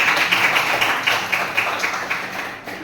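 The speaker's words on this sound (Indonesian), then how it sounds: "kasih tepuk tangan untuk Jumlah" A class of students claps together in a classroom, a short burst of brisk, moderately loud clapping that tapers off after a few seconds.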